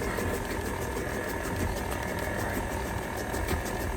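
A KitchenAid stand mixer beats Coke cake batter with a steady, close whirring motor drone and a fine rhythmic rattle throughout.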